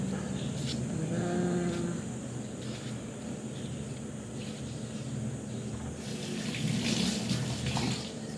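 Onions rinsed under a running kitchen tap, with a steady close splash of water into a sink that swells louder near the end as the bulbs are turned and washed.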